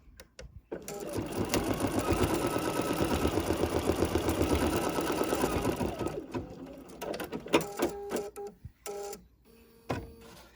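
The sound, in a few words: embroidery machine sewing a satin stitch around notebook cover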